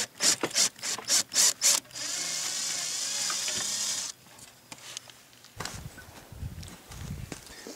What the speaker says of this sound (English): I'm just trying to cut into that caulk a little bit so the window will be a little bit easier to pull out